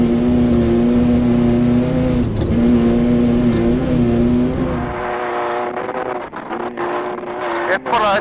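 A large car races and bears down fast, its engine droning loud and steady before giving way to a rougher, shifting roar. Voices talk over the engine noise.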